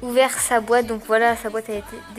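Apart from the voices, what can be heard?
None of the usual background noises is heard.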